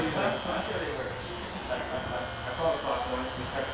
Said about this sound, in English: This is the strongest trimmer, the strongest clipper I have in the house.